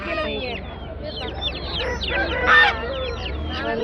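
Many chickens at a poultry market cluck and squawk together in a dense, noisy chorus, close by and continuous, with voices mixed into the din.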